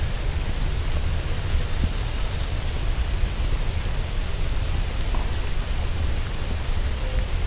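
Rain falls steadily over a garden of drooping flowers, a constant broad hiss of drops on surfaces with no lulls.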